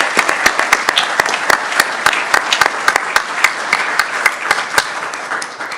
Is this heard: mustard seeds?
no